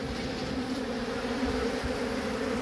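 Honey bees drone in a steady, close, continuous buzz around an opened hive as it is handled, with no voices over the sound.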